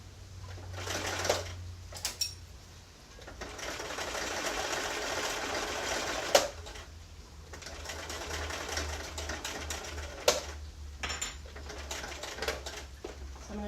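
A home sewing machine stitches a fabric slipcover corner in short runs, its steady motor whir starting and stopping with brief pauses and clicks as the needle drops and the foot lifts to pivot.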